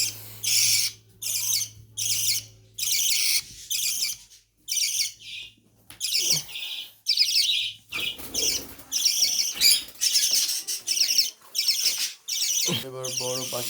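Lovebirds in an aviary chirp in quick, bright bursts that repeat with short gaps, loud and close, with a few harsher squawks mixed in and a low steady hum underneath.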